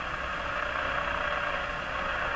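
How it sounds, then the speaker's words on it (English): Steady hiss-laden ham radio signal tuned on a Hallicrafters TW2000 World Wide shortwave receiver, a continuous mid-band noisy tone at constant level with no talk. "That sound is ham radio."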